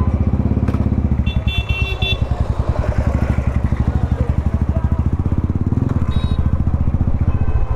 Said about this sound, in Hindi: हम लोग को बाइक निकालना चाहिए और बाइक निकाल के निकल जाना चाहिए यहाँ से